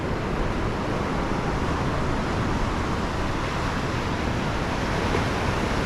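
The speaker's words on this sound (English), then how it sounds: "Love watching the waves roll in." Ocean surf rolling onto the beach at Orange Beach, a dense and fairly loud continuous wash of broadband noise with wind rumble and no clear separate breakers, and no voices.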